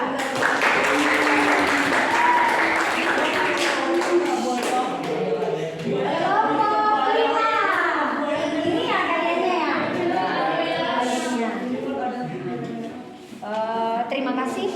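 A classroom of students claps for a student group after a project presentation, with scattered and uneven clapping mixed with children's chatter and voices throughout, fading near the end.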